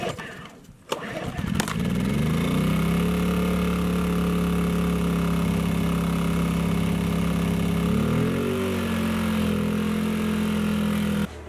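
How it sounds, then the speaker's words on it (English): A small fuel generator outside a cabin cranks and catches after a brief rattle, then settles into a loud, steady close-range hum with a slight shift in pitch partway through. "So that gallon of fuel will run for about 8 hours in this little machine."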